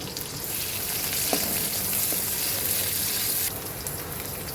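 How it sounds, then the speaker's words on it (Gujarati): Chillies fry in hot oil, a loud steady sizzle with scattered crackles that grows brighter before easing slightly near the end, close by and without talk. "તેલ ગરમ થઈ ગયું છે, આપણે તેલમાં નાખીશું મરચાં, પછી થોડા મરચાં પકડી જાય ને તતડી જાય"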